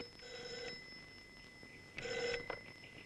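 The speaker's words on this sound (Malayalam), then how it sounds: "അതാണെനിക്കൊരു ഫോൺ വന്നിട്ടുണ്ട്." A telephone rings faintly in two short bursts with a pause between them, a thin electronic tone against a quiet room.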